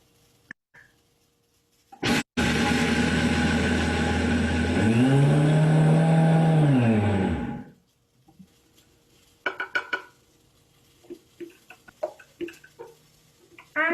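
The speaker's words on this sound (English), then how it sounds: "we're going to put the pepitas in the blender" A kitchen blender grinds pepitas (pumpkin seeds) into powder for mole, a loud whirring motor burst of about five seconds that changes pitch midway and then stops, followed by soft clinks and handling noises.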